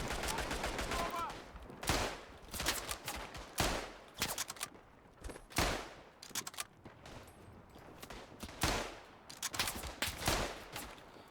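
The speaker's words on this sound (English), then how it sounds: "Did I fire off 5 rounds already? Bollocks. Well, keep firing." Rifle shots ring out in the World War I shooter game Tannenberg, with loud, sharp reports in irregular bursts every second or two, mixed with distant battlefield gunfire between them.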